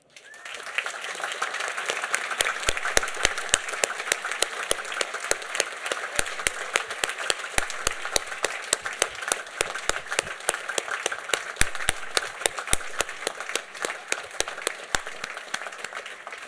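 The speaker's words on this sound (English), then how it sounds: "please join me in a warm applause" Steady applause from a seated audience honoring graduates at a university commencement ceremony, dense individual claps sustained evenly for over fifteen seconds without speech.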